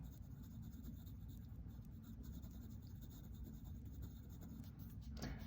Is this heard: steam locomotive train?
no